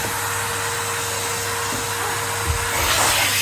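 A Henry Hoover vacuum cleaner running steadily and sucking up a sock, with a constant whining motor hum and airy hiss, plus a brief bump near the end as the airflow surges louder.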